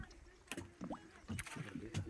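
A small boat on water near a village temple, with faint sloshing and soft thumps of the hull and paddle in a quiet rural setting.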